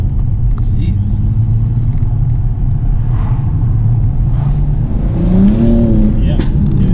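A tuned Stage 2 BMW M235i rumbles as it is driven, its engine droning low and loud with a rising rev toward the end and a few faint exhaust crackles, while people talk over it.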